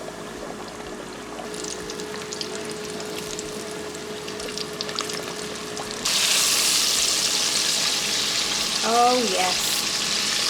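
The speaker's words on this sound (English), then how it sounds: "it's gonna go over here into the 350 degree oil" Fish coated in Zatarain's fish fry breading frying in 350 degree oil, a steady close sizzle that swells loudly as the pieces go in, with a brief voice exclaiming near the end.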